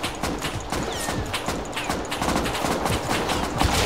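Gunfire in the survival game Rust: a dense, uneven volley of many rapid shots crackling over a busy background, sustained for several seconds and growing slightly louder near the end.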